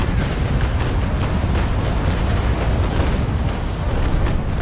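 Naval cannons fire in the Naval Action video game as a dense, continuous roar of booming broadside shots, loud and unbroken throughout with no clear gaps between blasts.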